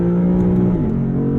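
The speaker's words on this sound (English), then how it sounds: "I just want to hear this engine all the time." A 2022 Lexus IS 500 F Sport Performance sedan's V8 rumbles up close, its deep engine note rising and shifting as it revs, with no talking.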